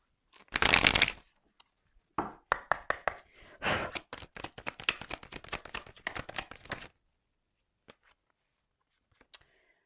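Tarot cards are shuffled in a rapid riffle, then tapped and dealt in a quick run of crisp slaps and flicks before a few isolated taps as cards are drawn, close and without talking.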